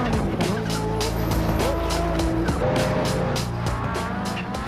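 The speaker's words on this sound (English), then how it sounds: "The Audi Quattro." An Audi Quattro drives hard, its engine droning steadily and loudly while the tires squeal and skid, alone with no talking.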